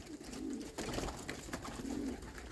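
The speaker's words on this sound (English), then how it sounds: "Still sitting on about 50 birds." Pigeons in a young-bird team coo softly in low, repeated rolling calls inside a backyard loft. The sound comes from a flock of about forty to fifty birds, faint and steady, with light rustling and no speech.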